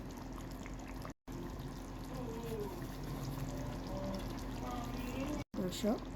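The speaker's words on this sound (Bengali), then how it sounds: "এখন আমি অ্যাড করব গরম পানি" Hot water pours into a pot of chicken and potato curry, a close trickling, splashing flow with brief gurgles, running steadily under a voice and stopping twice for a moment.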